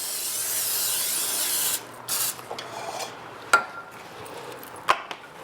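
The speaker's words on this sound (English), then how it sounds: "So I'm spraying with some olive oil." A steady hiss of olive oil spray onto a baking pan for about two seconds, then quiet with a few light clicks and taps of the can and pan.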